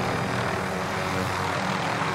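A propeller airplane engine in Call of Duty Warzone drones steadily and loudly throughout, an unbroken close whirring roar with no voices.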